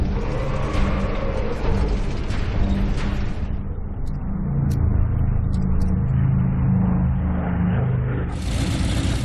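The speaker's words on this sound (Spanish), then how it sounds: "Los carros alemanes ponen rumbo a Stalingrado." German tanks rumble and roar as they drive toward Stalingrad, a loud continuous engine and track rumble that surges and churns, with some sharp clanks near the end.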